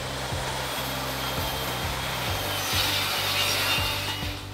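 Triangles of bendy plywood are cut with a hand saw, steady rhythmic back-and-forth strokes, about eight of them, close and clear with no talking.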